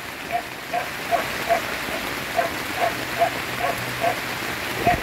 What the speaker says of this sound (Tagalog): maririnig mo yung patak ng ulan habang natutulog ka